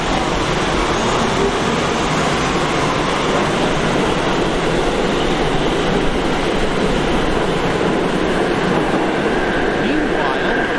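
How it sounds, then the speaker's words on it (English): An Uptown 1 train of R62 cars pulls out of a New York subway station from the opposite platform, a loud sustained roar and rumble of wheels and motors that stays steady throughout. "we have an Uptown 1 train made up of all R62 cars on the opposite platform"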